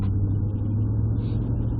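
A vehicle with a Ford 4.6L or 5.4L 3V engine, VCT solenoids disconnected, accelerating hard on a drive, heard as a steady deep rumbling drone from inside the cabin, continuous and moderately loud with no speech.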